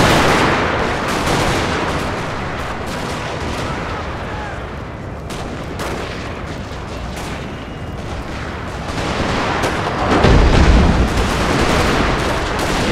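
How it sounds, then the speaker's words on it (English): Dense, continuous battlefield din of artillery fire and musket volleys in a Total War game set during the American Civil War Battle of Franklin, 1864, rumbling booms rolling under crackling gunfire for the whole stretch. "Yeah, artillery's still going off."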